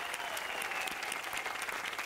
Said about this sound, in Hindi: और जोर से ताली बजाइए